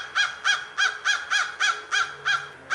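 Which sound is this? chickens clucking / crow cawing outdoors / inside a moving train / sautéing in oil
crow cawing outdoors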